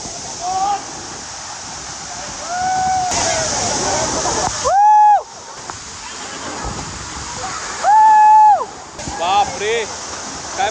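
Loud, continuous roar of Bhavli Waterfall at Igatpuri crashing down, with people talking and calling out over the rushing water.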